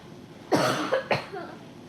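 A person coughs indoors, two harsh bursts about half a second apart with a faint throat-clearing tail, close to the microphone in a quiet room.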